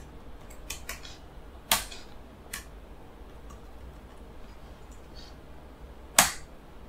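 A command typed on a computer keyboard while creating an AWS EC2 instance: a few scattered, sharp clicks and taps at irregular intervals, close by in a quiet room.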